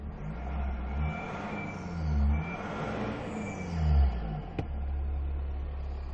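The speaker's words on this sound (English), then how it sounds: "Let's have a listen to the snorkel." Engine and standard exhaust of a 2017 Nissan Navara fitted with a snorkel, with a steady mid-level idle rising through several revs and settling back, one sharp click near the end, no talk.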